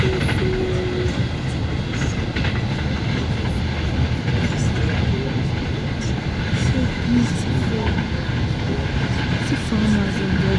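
A passenger train runs between Abuja and Kaduna, heard from inside as a steady broadband rumble and rattle of the carriage with faint wheel noise, moderately loud and continuous, while people talk now and then.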